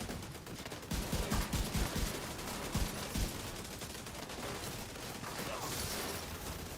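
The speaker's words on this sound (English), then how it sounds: "I'm just hip firing my way." Hip-fired automatic gunfire in the video game The Division 2 comes as rapid bursts of shots over a constant, noisy game soundscape. The shooting is fairly faint and close, with a few louder clusters.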